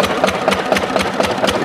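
A diesel engine converted to run on LPG chugs while pumping water. Its rapid, even thumping beat is loud and close, with no voices over it.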